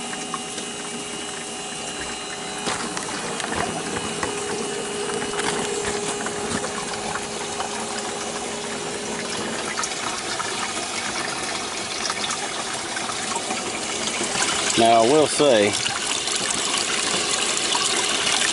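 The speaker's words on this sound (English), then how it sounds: "I hear water going in the bucket." Water runs steadily into a bucket through an automatic float waterer in a chicken coop, a continuous gushing trickle heard close by. Brief speech interrupts near the end.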